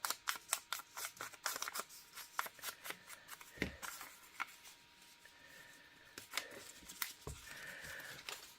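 Scissors cutting paper ephemera for a craft project, a busy run of crisp snips and rustles close up, fairly quiet, with no speech.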